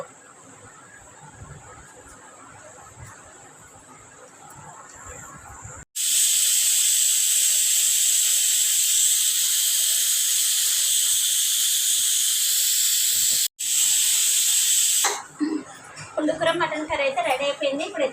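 A pressure cooker on a stove cooking mutton curry lets out a loud, sustained hissing whistle that cuts off briefly and resumes, ending abruptly; quieter room sound precedes it and a voice talks afterward.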